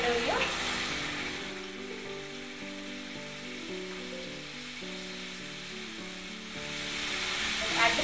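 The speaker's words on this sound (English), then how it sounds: "we are going to add the makhani sauce which we prepared earlier" Makhani sauce sizzles and bubbles as it is poured into a pan of browned cottage cheese and capsicum, a steady close frying hiss that swells at the start and end.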